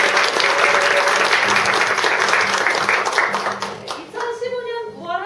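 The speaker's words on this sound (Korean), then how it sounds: "큰 박수 부탁드립니다." Audience applause at a Korean lecture-series gathering fills the room as a guest speaker is welcomed, a dense steady clapping that thins out near the end while a voice talks over it.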